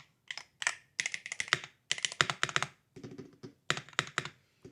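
Typing on a Keychron K2 HE keyboard: quick bursts of close, crisp key taps and clacks in uneven runs with short pauses, no voices.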